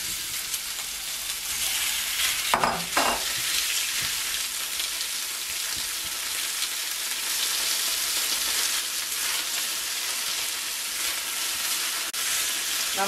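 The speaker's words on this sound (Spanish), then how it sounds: "En esta sartén, que es bastante grande, voy a freír el pollo." Chicken browning in a large frying pan, coated in cornstarch for a Chinese-style chicken with vegetables, gives a steady loud sizzle and crackle throughout, with a brief scrape or stir near the start and another near the end.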